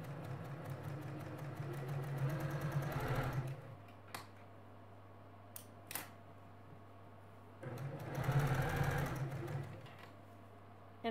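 A home sewing machine stitches a Dresden Plate quilt blade in two short runs, a steady whirring hum with quick needle clatter, separated by a pause with faint clicks and handling sounds.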